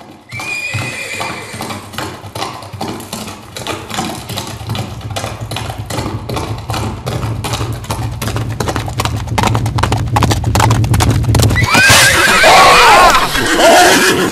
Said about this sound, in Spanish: ¿Pero qué hace un caballo en el estudio?